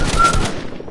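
A short burst of rapid gunfire from a Fortnite match, several quick close shots packed into under a second before trailing off.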